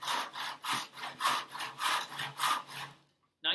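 A pull saw cuts wood in a miter box with a close, steady rhythm of about seven even rasping strokes, then stops briefly before another stroke starts.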